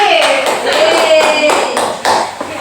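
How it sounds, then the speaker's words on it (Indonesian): Pupils in a primary-school classroom clap together in a short burst of rhythmic claps, close and fairly loud, with a voice briefly heard over the start. "Tadi tepuk tangan lagi."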